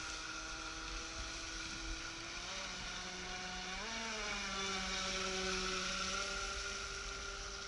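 An electric motor on a Navicraft Rebel 12s RC boat whines at low throttle, a faint, steady tonal hum whose pitch drifts and rises partway through over low background rumble.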